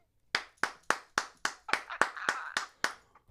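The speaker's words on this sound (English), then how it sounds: "I'm going to give a round of applause to gay men that wear women's shoes" About ten sharp hand claps from a single person, steady and close, with the last few quickening slightly before a final faint clap.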